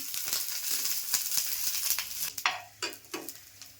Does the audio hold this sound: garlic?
yes